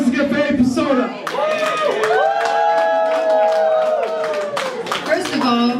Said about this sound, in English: put your hands together for AiiPersona